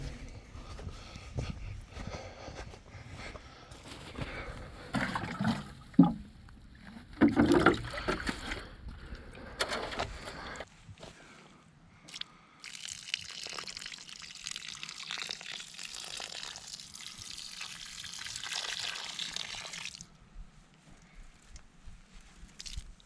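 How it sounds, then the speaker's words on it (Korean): Water poured from a container around a newly planted tree sapling in soil outdoors on a sunny spring day, splashing and trickling in uneven bursts, then settling into a steadier wash of running water. "나무 주변으로 물을 부어줄 때 나무를 살짝살짝 흔들어주면"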